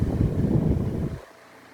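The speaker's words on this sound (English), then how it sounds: "For being a Walmart fan and only being 14 bucks, it actually blows a good amount of air." A cheap Mainstays box fan from Walmart runs with a steady broadband whoosh of moving air, close to the microphone and fairly loud, then cuts off abruptly near the end as it drops to near silence.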